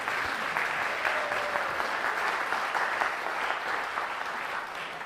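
A town hall audience gives a steady round of applause, dense clapping from many hands sustained throughout without a break.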